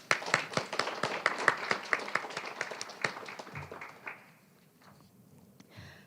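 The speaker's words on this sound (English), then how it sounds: "Let's offer more applause for those efforts." Audience applause at a poetry recitation competition state final, dense clapping for about four seconds that thins and fades into quiet room tone.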